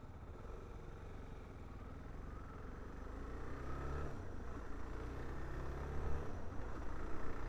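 A Suzuki DR-Z4S motorcycle engine hums steadily while riding through downtown Portland, a quiet, smooth single-cylinder drone with wind noise and slight rises in pitch as the throttle eases open.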